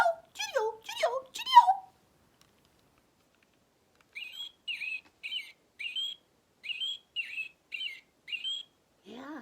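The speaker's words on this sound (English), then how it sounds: "go look for and listen for Mr. Robin." American robin singing its high, fast cheerio phrases, a series of short clear chirped notes repeated at a steady pace in otherwise quiet surroundings, preceded by a few lower swooping calls.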